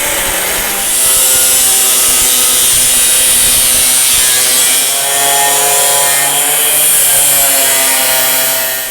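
A power saw cuts through the steel bed side of a 1960-1966 Chevy or GMC pickup truck, a loud continuous whining grind with a shifting metallic ring that holds for the whole stretch, close up with no talk.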